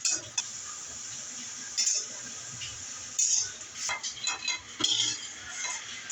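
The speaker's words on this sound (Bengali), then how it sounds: "কুমড়া বড়িটা আগে ভেজে নিব তেল দিয়ে।" Pumpkin lentil dumplings fry in oil with a steady, close sizzle, while a utensil clinks and scrapes against the pan now and then as they are stirred.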